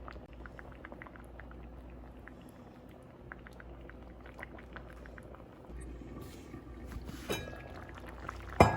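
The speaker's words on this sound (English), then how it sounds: "cover it up, guys, and let it just kind of cook until my dumplings are all the way done" Chicken and dumplings simmer in a covered pot with a soft, steady bubbling, faint and close, and a brief sharper clink near the end.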